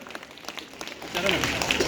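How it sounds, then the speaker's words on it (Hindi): A crowd at a political rally in Rohini claps in broad, sustained applause that swells louder in the second half, with voices mixed into the noise. "एक दफा जोरदार ताली अपने लिए"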